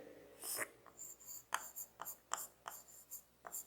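Pen strokes scratch across paper close by, in a series of short crisp bursts with brief pauses between them, and no one is speaking.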